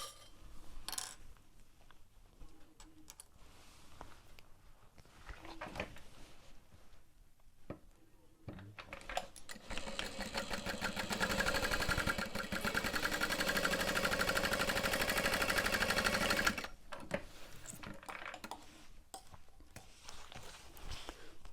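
A sewing machine stitches a half-inch bag seam, attaching the base in a steady mechanical whirr of several seconds, with quieter handling clicks and rustles before and after.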